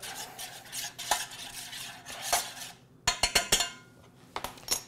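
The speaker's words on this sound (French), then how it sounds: "On va brasser un petit peu le tout, juste pour mélanger les 2 éléments." A utensil scrapes and stirs steadily inside a bowl of marinade for pork strips, then a quick run of sharp clinks against the side, close by and fairly quiet.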